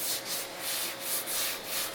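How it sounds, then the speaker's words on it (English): Glaze filler on the fender of a 1969 Pontiac GTO is hand-sanded in a crisscross pattern, a close, rhythmic rasping scrub repeating about every quarter second, with no talking. "He added glaze and now he's sanding."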